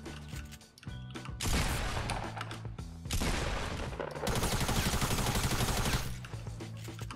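Bursts of rapid automatic gunfire from the Fortnite video game on PC, in three loud sustained volleys separated by short pauses, with smaller scattered shots and mechanical clicks between.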